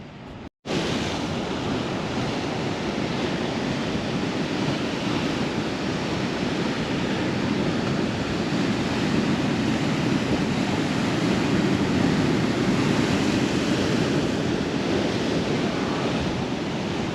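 Ocean waves crash against rocks on the coast at Kalbarri, a loud, continuous roar of surf mixed with wind buffeting the microphone, steady throughout after a brief silent start.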